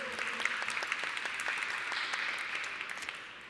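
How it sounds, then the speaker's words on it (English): Crowd at a design awards ceremony applauding a double winner, a sustained patter of many hands clapping at an even level that tapers slightly toward the end, heard alone without talk. "Round of applause for a double winner."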